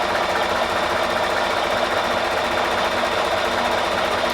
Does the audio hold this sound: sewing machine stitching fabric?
yes